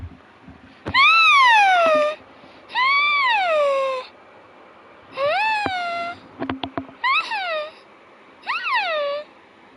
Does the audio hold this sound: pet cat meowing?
yes